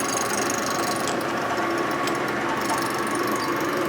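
A machining feed is hand-cranked across a 1947 Harley-Davidson EL knucklehead 74ci engine case under weld repair, a loud, steady, close mechanical whir with a rapid ratcheting, gear-like texture throughout.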